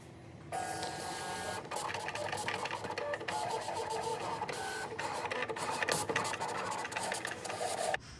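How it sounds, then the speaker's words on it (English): A vinyl cutter slices a design into adhesive vinyl for a silkscreen stencil, its carriage motor buzzing and whirring continuously for several seconds with quick stuttering steps, close and steady, then stopping abruptly. "You would follow the regular format for cutting it out on the vinyl cutter."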